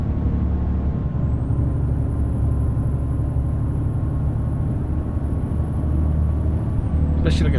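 A heavy truck engine drones steadily in Euro Truck Simulator 2, a low continuous rumble with a faint high whine running across most of it and a short hiss near the end; a voice talks over the engine noise.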